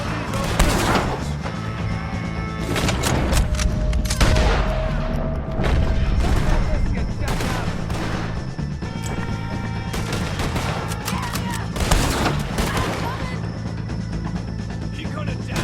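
Gunfire in a Red Dead Redemption 2 mission rings out in repeated loud bursts of shots and crashes, scattered irregularly across a busy firefight with shouting voices mixed in.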